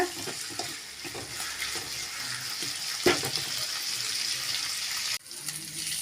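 Vallarai greens sautéing in a pan, giving a continuous soft sizzle with occasional stirring scrapes, close and moderately quiet, with no voices.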